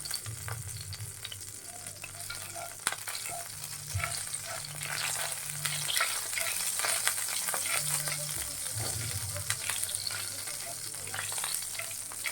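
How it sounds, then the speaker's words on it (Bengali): Nigella seeds (kalonji) sizzle in hot oil in a pan while cooking a Bangladeshi bean mash, a steady crackling fry with light stirring throughout and a low hum underneath. "এটা আমার একটু গরম হয়ে গেলে আমি দিয়ে দিব এখানে দিয়ে দিব কালি জিরা"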